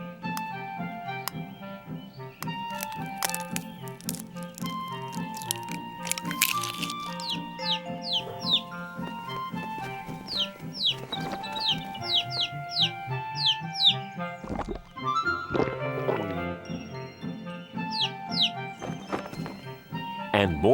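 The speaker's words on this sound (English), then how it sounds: "There were birds" Cartoon birds chirp and cluck in quick, high calls that repeat throughout, over bright animated-film music in a children's Bible creation scene.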